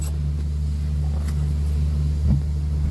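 A 2019 Suzuki Mehran car idling, its engine giving a steady low rumble with an even hum throughout, close by and loud, with no voices.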